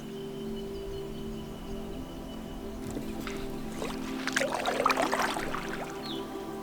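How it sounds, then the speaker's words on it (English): A solo paddler dips into the water from a canoe on a calm lake, and soft splashes and drips build in the second half, close and gentle, over a steady low hum. No one speaks. "I think I might jump out in the canoe now, go for a bit of a paddle"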